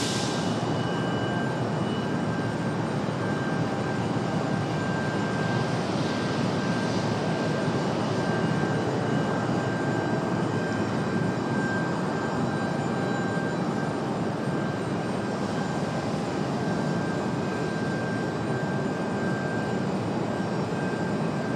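An American jet airliner, flight 3033, takes off from runway 23 right at Raleigh-Durham airport, a steady loud broadband engine roar that holds for the whole stretch with a constant high tone riding on it.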